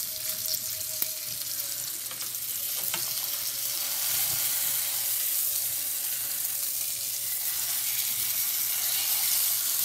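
Steak dredged in flour and oregano fries in a pan for steak pizzaiola, a close, continuous hiss and crackle of hot oil that holds steady throughout, with no voices.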